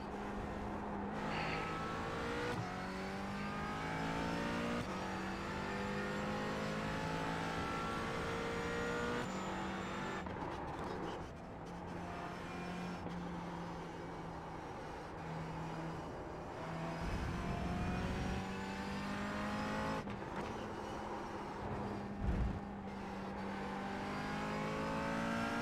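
A GT3 race car engine in a sim racing game at Road Atlanta drones steadily, revving up through gears with rising pitch and brief drops on shifts, loud and continuous without talk.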